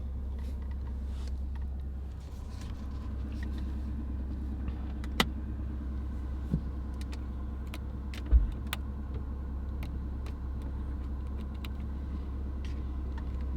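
Toyota Supra sports car out for a short drive, heard from inside as a steady low engine and road rumble with a few faint clicks and thumps, no talk.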